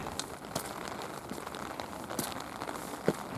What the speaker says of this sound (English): it's raining enough that I have to keep an umbrella over myself and the camera